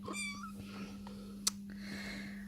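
A Devon Rex kitten meows indoors, a short high, rising mew at the start followed by a softer cry later, over a steady low electrical hum with a brief click in between.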